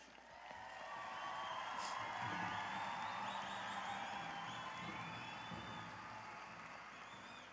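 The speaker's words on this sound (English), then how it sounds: "So if you could please give my mother another round of applause." A large crowd at the Gathering of Nations pow wow applauds and cheers, with scattered whoops; the steady, broad roar swells and then slowly eases, heard from within the audience.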